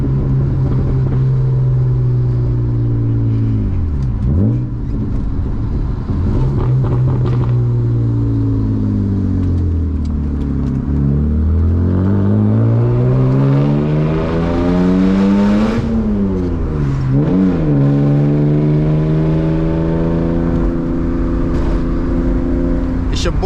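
A manual BMW E36 328i with a muffler-deleted exhaust drives hard, loud close engine drone rising and falling through gear changes, a continuous raspy roar throughout.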